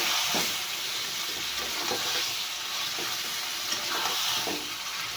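Chopped banana stem sizzles in a frying pan as it is stirred, a steady hissing fry with repeated soft scraping strokes up close.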